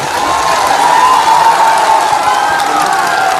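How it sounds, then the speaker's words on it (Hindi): A large crowd at a chief minister's public rally in Rajaun, Banka, India, applauds and cheers loudly and continuously, with dense clapping, shouts and whoops sustained throughout. "जरा जोरदार ताली बजाइए।"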